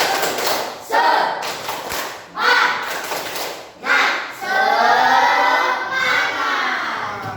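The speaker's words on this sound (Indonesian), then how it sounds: "Nanti Bapak Iska akan memberikan ice breaking dengan tepuk semangat" A group of teachers at a training session performs the tepuk semangat rhythmic clap, delivering loud, close bursts of clapping separated by short pauses, ending in a longer sustained run.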